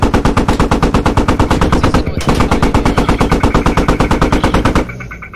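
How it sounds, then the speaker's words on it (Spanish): Rapid, steady bursts of turret machine-gun fire in a military video game, loud and close, a regular stuttering rhythm of shots that runs for nearly five seconds before cutting off into quieter background noise. "De la torreta nos tira, ¿no?"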